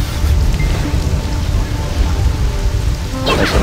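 Steady, loud rainfall from the online game Black Desert Online, a dense continuous hiss that fills the scene without pause, with a brighter patter of drops near the end and no voices.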